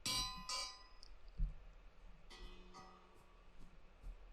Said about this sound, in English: Now we could put a bell.